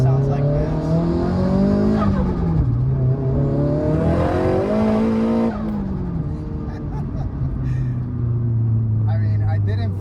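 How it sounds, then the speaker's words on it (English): A Nissan Silvia Spec R S15 drift car revs hard and loud close by, engine pitch climbing and dropping through several throttle pushes before settling to a deep steady drone, with a brief tire-squeal-like edge in places. "this car, as you can hear, is loud"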